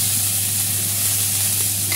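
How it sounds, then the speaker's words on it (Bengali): Potatoes and bitter gourd fry in hot oil in a rural-style kitchen, a continuous close sizzle with stirring scrapes and no talking. "এই যে এখন আলু আর করলা দিয়ে দেওয়া হলো সুন্দর করে ভাজার জন্য।"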